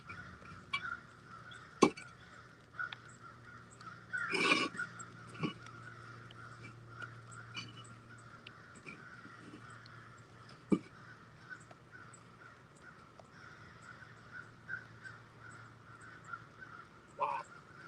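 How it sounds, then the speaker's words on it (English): Crows calling on a rainy day, with a few sharp caws scattered through a steady background hum and patter of rain, moderately distant and no talking. "Crows are going crazy today."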